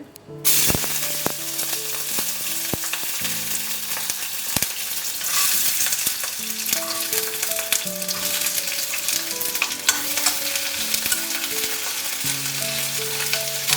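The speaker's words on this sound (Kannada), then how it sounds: "ಈ ಮಸಾಲೆ ಚೆನ್ನಾಗಿ ಫ್ರೈ ಆಗಬೇಕು." Onion, slit green chili, cinnamon, cloves and pepper fry in a pan for a South Indian masala, giving a loud, steady sizzle throughout, with soft background music underneath.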